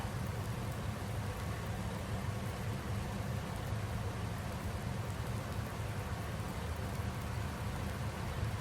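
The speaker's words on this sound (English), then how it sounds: "Raining now." Rain falls steadily in the Farming Simulator video game, an even, dense hiss of drops on surfaces that holds constant with no voices.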